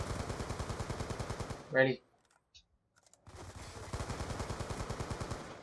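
Rapid automatic gunfire from the video game Black Ops 2, a steady stream of close, loud shots before a short pause and then another sustained burst, with a player's voice speaking briefly between.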